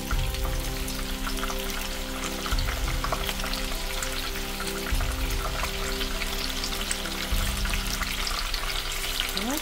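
Tofu fries in hot oil for tahu jeletot, a dense continuous sizzle and crackle with steady popping, close and fairly loud, alone without talk.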